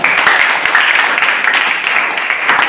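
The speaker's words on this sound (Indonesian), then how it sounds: "Baik, tepuk tangan." A classroom audience gives dense, steady applause with many hands clapping together at close range, holding an even level throughout.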